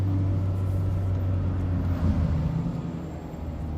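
A 2018 Mazda MX-5 Miata (ND) drives along with a steady low engine drone and road rumble, heard from inside at moderate level, with no talking.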